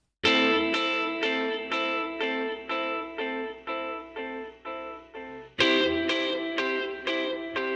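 An effects-laden electric guitar strikes repeated chords in a steady pulse over a low bass line, each chord ringing and decaying before the next, then restarting louder.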